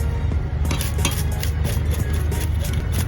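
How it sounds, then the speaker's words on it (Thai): A tablespoon scraping scales off a fish, rapid repeated scratchy strokes with light clinks, close and fairly loud in a continuous rhythm, no voices. "ใช้ช้อนนะคะช้อนโต๊ะนะคะ ขอดเกล็ดปลาค่ะ"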